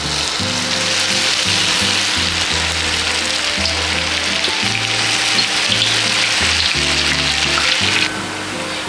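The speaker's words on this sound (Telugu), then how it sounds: "ఆయిల్ హీట్ అయిన తర్వాత ఇవి నెమ్మదిగా ఆయిల్లో ఫ్రై చేసుకోవాలి." Food deep frying in hot oil in a pan gives a loud, continuous sizzle and crackle, with low steady tones from background music running beneath.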